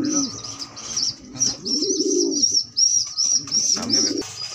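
Large pigeons coo in repeated low, throaty phrases close by, with high chirping, a brief wing flap and bursts of background noise in a loft.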